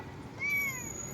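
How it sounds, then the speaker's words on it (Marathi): A single cat meow, a rising-then-falling tonal call near the middle, heard alone over a quiet background hiss. "मांजर आहे ना"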